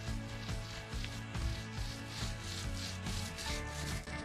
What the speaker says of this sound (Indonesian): Beberapa gram dempul dan amplas dengan kertas pasir bisa dengan mudah dan cepat memperbaikinya.